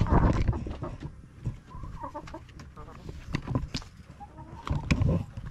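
RTL chickens on a small provincial farm cluck and squawk in bursts close by, with scattered calls overlapping and a brief low murmur of talk in the background.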